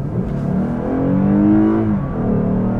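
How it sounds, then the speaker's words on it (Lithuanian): A Lexus GS accelerating at full throttle from about 30 km/h on a town road, its engine note rising steadily in a smooth, loud drone heard from inside the car, with no talk over it. "Nuo 30 spaudžiu dugną."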